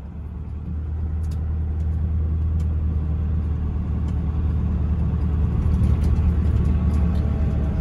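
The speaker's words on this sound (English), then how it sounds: "get the service truck, drive on around the field" A service truck drives around a field where trees are being cut, giving a steady, close engine rumble with road noise that holds at an even level throughout, with no voices.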